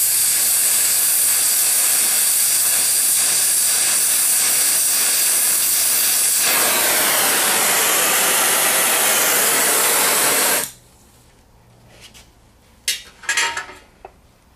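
A gas welding torch hisses loudly and continuously while welding metal for dish tongs, a close, steady roar that cuts off abruptly after about ten seconds, followed by a few metallic clanks.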